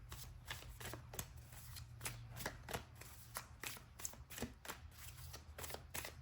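Tarot cards shuffled nearby, a steady series of soft flicks and riffles over a low background hum, with no talking.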